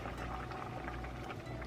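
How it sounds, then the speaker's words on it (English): A pot of water at a rolling boil on a stove, with steady dense bubbling and gurgling that stays close and even throughout, with no voices. "Ooh, it's boiling. I'm gonna turn the heat down a little bit."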